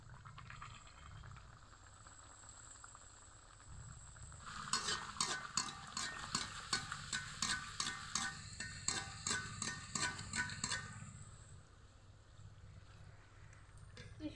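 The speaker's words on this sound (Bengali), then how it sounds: "বন্ধুরা, এখন লুচি ভেজে দেখাবো। কড়াইয়ে তেল গরম করে নিয়েছি" Luchi fry in hot oil in a wok with a quiet, steady sizzle, then a run of rhythmic stirring or splashing strokes that surges louder for several seconds before settling back to a gentle bubbling.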